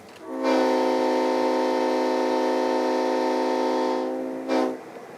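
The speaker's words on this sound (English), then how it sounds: "Would you like to blow the horn, David?" A loud, sustained train horn blares steadily for about four seconds, then cuts off, followed by a brief second short blast.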